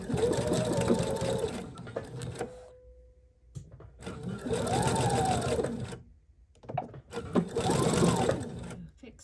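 A sewing machine stitches bag lining in two bursts, stopping and restarting, with a close steady mechanical whir under a speaking voice.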